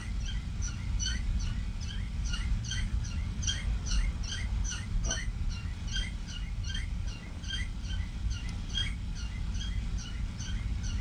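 A pet bird sings steadily in a room, bright repeated chirps and trills running through the whole stretch over a low rumbling background of game and engine noise.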